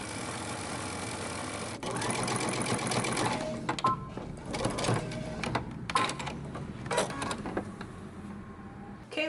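A sewing machine stitches and backstitches on a Simplicity romper and dress pattern, running in close bursts broken by short pauses and clicks as the direction changes.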